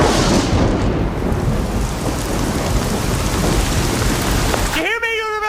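Heavy rain pours down with rolling thunder, a loud, dense roar filling the scene throughout before it cuts off near the end, where a voice briefly starts to speak.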